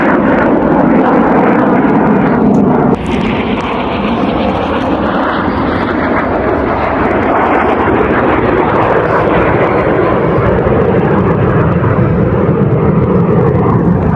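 A plane at an airshow in Vancouver roars loudly overhead, its steady engine drone continuing throughout and shifting in pitch as it climbs away, with no talk over it.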